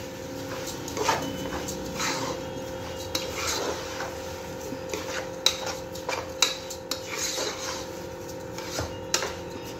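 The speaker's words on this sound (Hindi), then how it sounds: "अच्छा भुनेंगे इसको चावल को" Rice, about a kilo, being roasted in a pot for a chicken qurma bagara khana, with a spoon scraping and clinking against the pot in scattered sharp knocks over a steady low kitchen hum.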